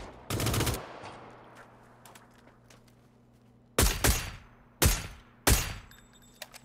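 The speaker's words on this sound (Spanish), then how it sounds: "Kai le metió 3, 4 tiros con el SLR ya." SLR rifle in the PUBG video game on Erangel, firing a rapid burst of loud shots, then single sharp cracks spaced about a second apart, with quiet background between.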